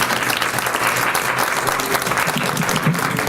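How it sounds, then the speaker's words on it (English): An audience at a women's health forum on menopause at a hospital gives a round of applause to a doctor, a full, sustained roar of clapping from many people. "Can we all give a round of applause for Dr. Graven?"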